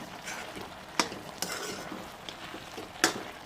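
A spoon stirs cardamom powder and dry fruits into carrot halwa in a pan, soft scraping and low sizzling punctuated by a few sharp clinks of metal against the pan, close and without talking.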